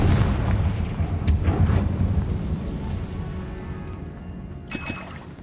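A Confringo spell explosion in the video game Hogwarts Legacy bursts at the start as a heavy rumbling blast. Dense low roar and crackle follow, fading slowly, with a brighter burst near the end.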